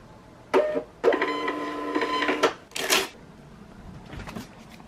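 A new label printer feeds and prints a shipping label: a short whir, then a sustained mechanical buzzing run of about a second and a half, followed by clacks and a brief tearing rustle, close and clear.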